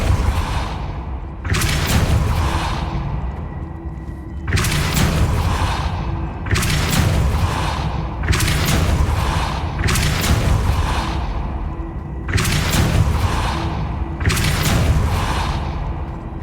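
Repeated Depulso force spell blasts in Hogwarts Legacy, six or so heavy booming bursts at roughly two-second intervals, loud and close, each with a whooshing tail.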